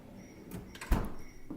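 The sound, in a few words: Sub-Zero refrigerator drawer sliding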